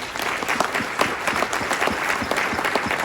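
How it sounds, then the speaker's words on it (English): Steady applause from a sizable crowd at an awards ceremony, dense continuous clapping that holds at an even level throughout. "how about a round of applause for Ed Hurst?"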